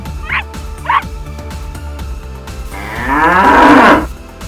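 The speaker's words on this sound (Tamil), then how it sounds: "உடனே வீட்டிற்கு வந்த அருண் ஜல்லிக்கட்டு காளையின் கொம்பல சிகப்பு துணியை கட்டினான்." An animated Jallikattu bull lets out one long, loud, rising moo toward the end, after two short yelping barks, over a low steady background hum.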